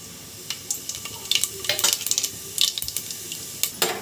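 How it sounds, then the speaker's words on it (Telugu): Cumin seeds crackle and sizzle in hot oil in a pot, with a run of sharp, bright pops and spatters clustered near the middle, fairly close and alone without talk. "ఆయిల్ బాగా హీట్ అయిన తర్వాత కొంచెం జీలకర్ర వేసుకోండి"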